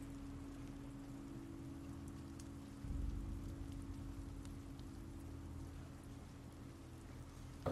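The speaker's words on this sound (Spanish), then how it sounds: "Está lloviendo y están asando algo." Steady rain falls in a video game scene from The Walking Dead Season 2, a soft, even hiss over a low hum, fairly quiet and unbroken, with no voices.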